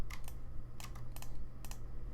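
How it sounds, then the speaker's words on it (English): Computer keys clack in several short bursts of quick presses, close and clear over a faint low hum, during work on a 3D gear model; no talking. "use shift on the keyboard to select the faces that I want"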